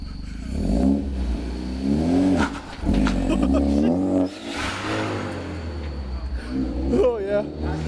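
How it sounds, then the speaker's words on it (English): A car engine, fresh from a manual transmission swap, revs unsteadily as the gas is feathered, with a low rumble rising and falling through the clip while several people talk loudly over it. "Jason, feather the gas. You gotta feather it"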